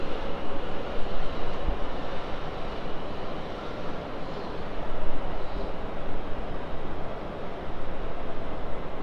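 A train rolls through Farnborough (Main) station on the South Western Main Line, a loud, steady rumble and rushing wheel noise close by, swelling and easing slightly throughout without any talk.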